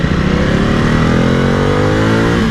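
A Ducati Multistrada 950 motorcycle cruises on a highway. The engine drones loud, close and steady, and its pitch climbs slightly as it pulls, with no voices.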